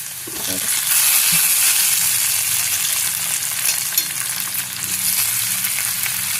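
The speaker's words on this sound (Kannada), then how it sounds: "ಹಾಗಲಕಾಯಿ ನೆನೆಸಿರೋದಿದೆಯಲ್ಲ ಅದನ್ನು ಈ ಥರ ಗಟ್ಟಿಯಾಗಿ ಹಿಂಡಿ ಹಾಕ್ಕೋಬೇಕು. ಅದಕ್ಕೆ ಹಾಕಿ ಫ್ರೈ ಮಾಡಬೇಕು." Soaked bitter gourd with crushed garlic fries in a pan, a steady loud sizzle with brief stirring scrapes near the start, no voices.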